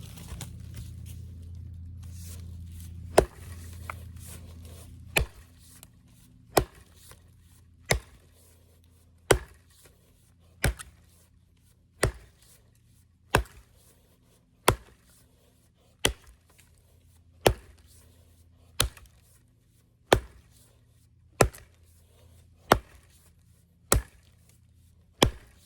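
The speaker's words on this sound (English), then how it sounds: "Just gonna do a bit more chopping here with the BeaverCraft Universal" A BeaverCraft Universal Forest Axe chops wood on a stump, landing single sharp blows at a slow, steady pace of roughly one every one to two seconds, with a low hum early on; close and clear, no voices.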